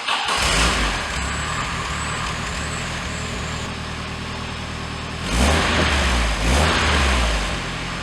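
A car idles through an MSL Maximum AP offset inlet, single outlet performance muffler, giving a steady, fairly loud exhaust drone that swells with two short throttle blips.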